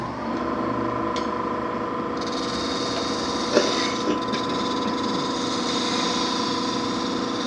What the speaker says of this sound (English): I do a very, very nice, clean cut dovetail tenon